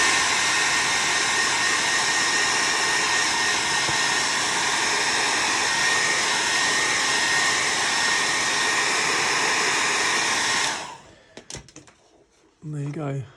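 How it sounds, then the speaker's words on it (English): A hair dryer blows with a steady, loud whooshing hum for about ten seconds over a resin model, then cuts off, leaving faint handling noises and a brief voice. "That'll all disappear when you get the hairdryer"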